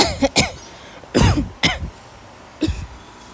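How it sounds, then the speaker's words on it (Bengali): A woman coughs dryly in a quiet room: a handful of short, harsh bursts in irregular clusters, with gaps of silence between them. "এত শুকনা কাশি আমার খুব খারাপ লাগে কাশলে"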